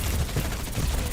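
Enemy turret fire in the video game Overwatch, a dense low rumbling barrage of rapid shots blending into steady game noise at moderate level.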